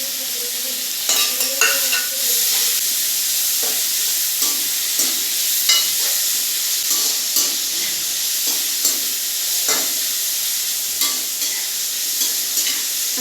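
Chopped tomato sizzles loudly and steadily in a hot pan, with a busy run of clicks and scrapes as it is stirred throughout. No one speaks.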